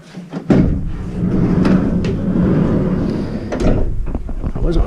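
Dual sliding doors on an empty Promaster van shell being rolled and latched, with rumbling slides and a couple of sharp clunks while someone talks over them.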